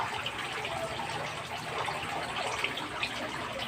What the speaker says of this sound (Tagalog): May lumabas na tubig.